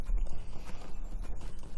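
Hooves of the Steed of Winter's Light, a Yuletide horse mount in the game Frostbluff, clip-clop in a steady walking rhythm over soft low ambience, close and moderately loud with no talking.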